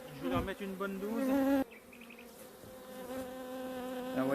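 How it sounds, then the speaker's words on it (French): Bees buzz around a hive during a varroa check, their drone steady and close with several overlapping wingbeat tones. "les abeilles elles se sont ramenées dans la ruche"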